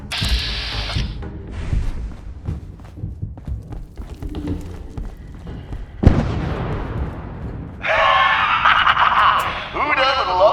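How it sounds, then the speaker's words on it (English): A loud explosion in Fallout 4 (Nuka-World DLC) arrives as a sudden heavy boom partway through and fades out over a couple of seconds. Scattered in-game clatter and effects sound around it. "Who doesn't love a good explosion?"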